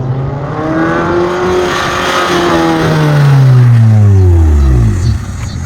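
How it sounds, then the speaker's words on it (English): A 1995 Honda Accord EX engine revs loudly and steadily, its pitch climbing and then dropping away sharply near the end, with no voices. "I currently drive a 95 Honda Accord EX."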